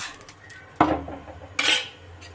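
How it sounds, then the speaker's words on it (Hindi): Utensil clatter on a ghee-greased tawa as a laccha paratha is flipped: two sharp metallic scrapes and clinks, close and fairly loud, over a quiet low background with no talking. "अब इसमें थोड़ा सा घी डालेंगे तवे पर और पराठे को डाल देंगे तवे पर। पराठे को पलट लेंगे"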